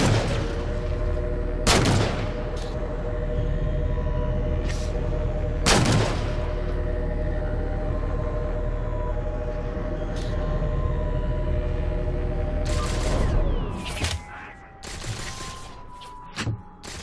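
Heavy gunfire strikes a ship's starboard side in the video game Halo 4, a few loud booming impacts over a constant engine drone, with a denser cluster of hits near the end.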